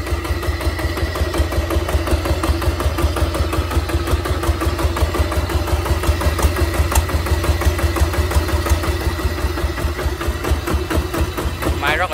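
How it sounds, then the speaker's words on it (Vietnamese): A Kubota 1405 four-cylinder diesel engine, 32 hp, runs steadily at idle with an even, rapid rhythmic chugging that is loud and close throughout. "Máy êm nha cô chú anh chị nha."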